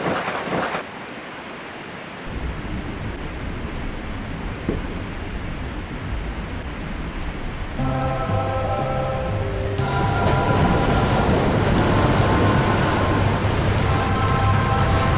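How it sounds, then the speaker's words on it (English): Rushing cascade of a waterfall in the game Tombi! 2 as a giant fish swims up it, a steady broadband roar joined partway through by layered tonal music that grows fuller and louder. "the fish goes up the waterfall"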